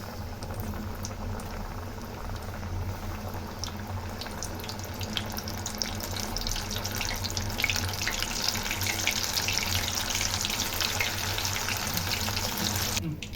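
Chicken popcorn pieces frying in hot oil in a pan, a continuous bubbling sizzle that builds and grows busier partway through, close and steady.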